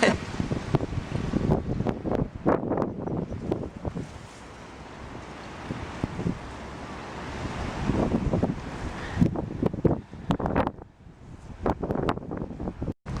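Gusty wind buffeting the microphone at a Florida beach on a cool day, loud rumbling blasts that rise and fall with brief lulls, with faint voices underneath.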